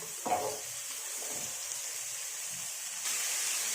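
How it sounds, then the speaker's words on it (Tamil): Chopped chow chow sautéing in hot oil: a steady, close sizzle with a few stirring scrapes, and the frying gets louder toward the end. "ஒரு 2-3 நிமிஷம் நல்லா வந்து இந்த சவ் சவ்வை இந்த எண்ணெயிலே வதக்கி விடுங்க"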